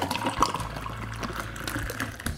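Left Hand Nitro Milk Stout is hard-poured from the can into a glass, giving a steady rushing, splashing pour with foamy gurgling, continuous and close, with no talk.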